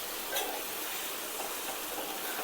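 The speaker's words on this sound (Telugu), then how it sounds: "1 స్పూన్ కారం యాడ్ చేసుకోవాలి. మంచిగా మిక్స్ చేసుకుందాం." Brinjal curry being stirred in a pan after a spoon of chili powder goes in, a soft steady sizzle with faint scraping strokes throughout, fairly quiet and without voices.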